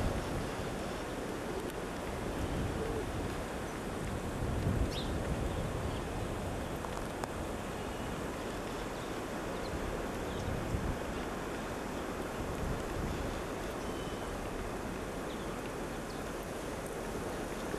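Strong wind gusts the day after the 1993 blizzard at a Queens Village home, a steady, loud, rushing roar buffeting the microphone throughout with no let-up and no voices.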